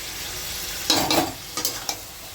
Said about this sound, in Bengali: এই যে কিমাই রান্না হচ্ছে,